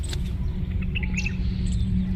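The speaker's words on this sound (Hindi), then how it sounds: "चिड़ियों की चहचहाट सुनाई दे रही है आपको।" Small birds chirping in a home kitchen garden planted with cauliflower, tomato and sunflower; faint, scattered chirps sit above a steady low background rumble, with no talking.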